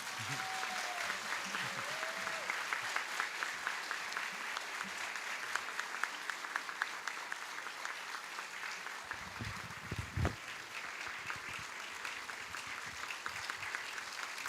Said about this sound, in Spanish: Un fuerte aplauso al Padre Manuel, por favor.